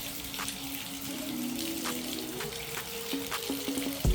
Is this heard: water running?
yes